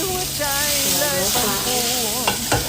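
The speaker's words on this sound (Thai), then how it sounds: "ทำเลยผัดเลย" Stir-frying in a pan, with a steady sizzling and scraping wash running throughout. Melodic music plays over it, and two sharper clatters come near the end.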